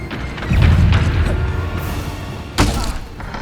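The Bombarda blasting spell from the Hogwarts Legacy video game, a heavy thudding boom that rumbles and fades. A second sharp crack follows soon after.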